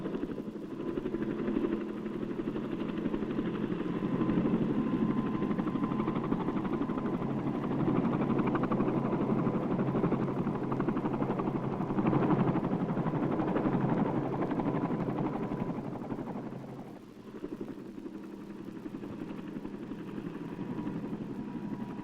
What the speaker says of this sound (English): The copter passes so low that the tops of the plants literally brush the vehicle